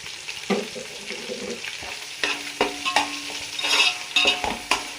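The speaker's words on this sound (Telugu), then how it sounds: "ఇప్పుడు ఈ వేగుతూ ఉంటుంది, వేగుతున్నప్పుడే మనం ధనియాలు కూడా" A ground coriander and cumin masala sizzles in a pan at close range. A spoon scrapes and clatters against the pan in irregular strokes, with no talking.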